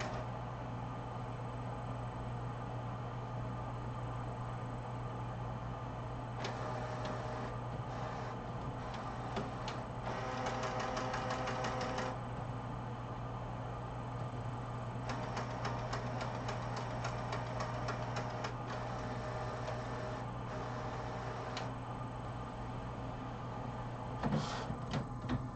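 A Sawgrass SG500 dye-sublimation printer initialising: a steady mechanical hum with bursts of rapid ticking and whirring through its warm-up cycle, with no talking.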